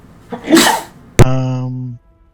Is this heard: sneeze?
yes